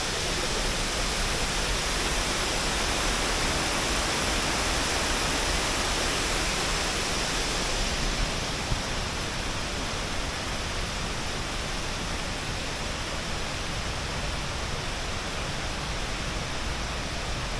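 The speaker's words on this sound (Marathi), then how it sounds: "ते एक छोटासा धबधबा आहे तो देखील आपण पाहूया" A small waterfall near Dhutpapeshwar temple in the Konkan roars in a steady, dense rush of falling water throughout, during heavy monsoon rain.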